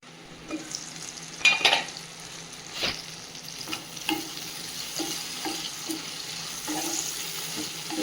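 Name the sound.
eggplant frying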